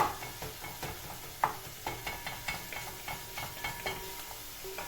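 Minced meat fries in a pan, a soft continuous sizzle broken by a run of sharp scraping and tapping strokes as a utensil stirs it, close and fairly quiet.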